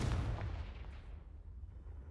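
A Confringo spell blast in the video game Hogwarts Legacy, a single heavy boom with a deep low rumble that decays over about two seconds, alone without talk.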